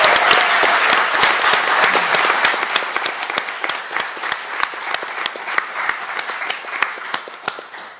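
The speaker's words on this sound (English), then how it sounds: "Let's give everyone a big round of applause." Sustained applause from an audience at a live quiz competition, dense clapping that thins slightly toward the end, with distinct individual claps standing out.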